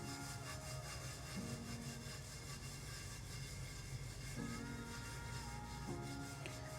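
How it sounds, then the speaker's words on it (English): Glitter is rubbed in circles onto a glue-coated tumbler, making a steady, close, dry scratching and rubbing sound with rhythmic strokes, alone without talk. "So all you do is just rub in circle motion"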